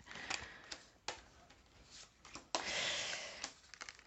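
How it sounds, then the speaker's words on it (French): Tarot cards are spread out and drawn on a table, with soft papery slides and a longer swishing spread in the middle, dotted with light taps and flicks, close and quiet with no talking. "je vais juste étaler mes cartes, je vous le montre après. Je vais tirer les cartes"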